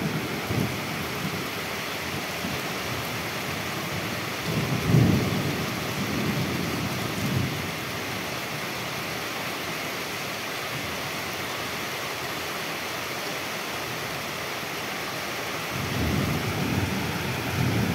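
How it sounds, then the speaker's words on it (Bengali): Heavy rain pours steadily during a violent nor'wester storm, with deep thunder rumbling up twice, once near the start and again toward the end, under the constant roar of the downpour. "জোরে বিদ্যুৎও চমকাচ্ছে আর ভীষণ বৃষ্টি হচ্ছে।"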